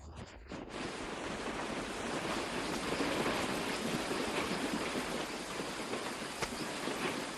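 Dense, steady rain pours down on the flooded Amazon rainforest of Brazil in a continuous broadband hiss, loud and unbroken from start to finish.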